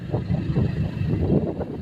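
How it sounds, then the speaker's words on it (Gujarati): Steady low rumbling cold wind buffets the microphone throughout on a farm road, a continuous blustery roar with no speech. "ઠંડો પવન આવે છે"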